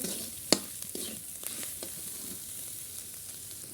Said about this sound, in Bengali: লাস্ট পাতার সবজি সব মশলা দিয়ে এখন ভালোভাবে কষিয়ে নেব